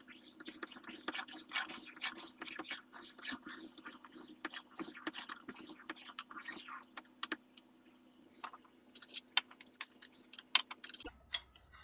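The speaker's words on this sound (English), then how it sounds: "I'll start by changing to a light cut on the spokeshave to remove any high spots." Spokeshave taking light cuts along the front end of a wooden military rifle stock: a rapid run of dry scraping and rasping strokes, close and fairly steady, under a constant low hum, cutting off abruptly at the end.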